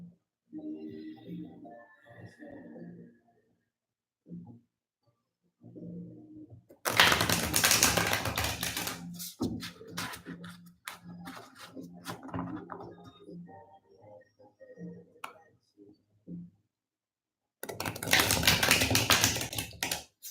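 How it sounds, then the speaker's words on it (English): Tarot cards being shuffled, bursts of dense riffling and flicking separated by quieter stretches of softer handling, close and moderately loud with a voice murmuring in places. "I'm going to shuffle the cards."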